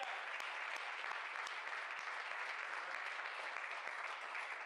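Sustained applause from a church congregation honoring Jesus, a dense steady wash of many hands clapping at even loudness throughout, with no voices standing out.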